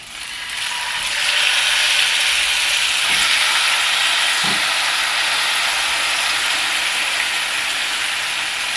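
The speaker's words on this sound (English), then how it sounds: "So that grease is awake and ready. So we're going to be adding the steak now." Steak added to hot, ready grease fries with a steady, loud hiss that swells after about a second and holds to the end, with a couple of faint clinks near the start and middle.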